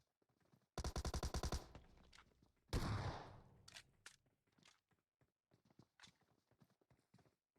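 Shotgun fire in PUBG Mobile: a loud, rapid burst of blasts, a second heavy shot a moment later, then scattered light footstep-like clicks that taper off.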